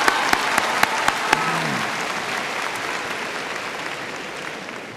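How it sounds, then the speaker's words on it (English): An audience at a high school graduation ceremony breaks into sustained applause, a dense, loud wash of clapping with a few sharp claps near the start, slowly fading toward the end. "Can we give them a round of applause, please"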